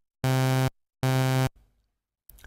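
Two separate Sylenth1 synth notes with the amplitude envelope attack set to zero, each starting instantly at full level, holding steady for about half a second, then cutting off, with a faint softer sound trailing afterward.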